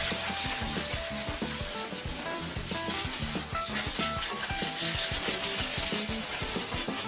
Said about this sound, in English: so I'm gonna keep grinding this